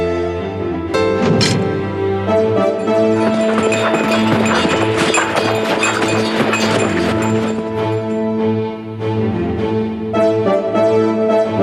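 Horses' hooves clip-clop in a steady rhythm as horses are saddled in a film about the life of the Buddha, heard under loud orchestral music that carries throughout.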